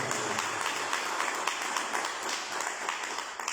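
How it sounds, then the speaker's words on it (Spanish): A church congregation claps for the Lord during a sermon, a brief, even burst of many hands heard from within the room, with no speech over it. "Denle un aplauso al Señor."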